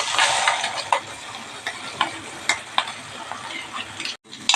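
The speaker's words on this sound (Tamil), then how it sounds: "இந்த எண்ணெயிலே நல்லா மசாலா நல்லா வதங்கட்டும்." Ground masala paste frying in oil with softened onions for a fish curry; a bright, continuous sizzle with intermittent stirring scrapes and clicks of a spoon, close and loud, briefly dropping out near the end.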